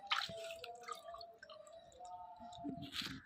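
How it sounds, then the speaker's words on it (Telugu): Mutton pieces are washed in water in a bowl, giving soft drips, squishy splashes and clicks at close range, quiet and irregular, with no talking. "ఇలా వాటర్ వేసుకొని వాష్ చేసుకోవాలి."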